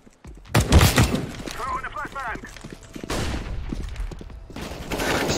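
AK rifle gunfire in the video game CS:GO cracks out in a loud opening burst, followed by further shots and game effects, while a player talks over the action.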